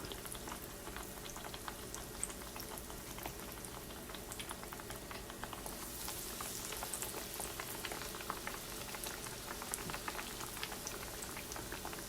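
Eggplant slices fry in hot oil with a dense, steady bubbling crackle of many tiny pops. The frying stays constant and close for the whole stretch, with no voices.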